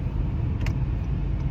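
A car driving along, with a steady low engine and road rumble from inside the vehicle and a faint brief tick partway through, and no talking.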